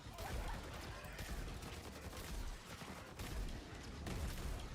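Dense, continuous gunfire from a weapon in the video game Rogue Core, crackling shots layered with booms and battle noise throughout, loud and busy without pause.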